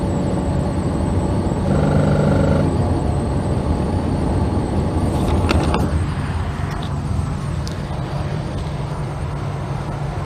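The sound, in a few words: abnormal noise from Holden HK automatic transmission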